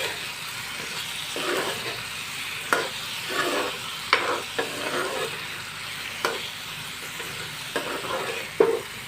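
Potatoes for aloo fry are stirred in a kadai, giving a steady crackling sizzle broken by repeated scraping strokes and a few sharp clacks of the spoon against the pan, with no voices.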